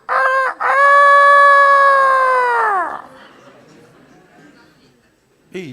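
A rooster crows once loudly and close, a long strained cock-a-doodle-doo that rises, holds and trails off, followed by quiet background and a brief voice at the end.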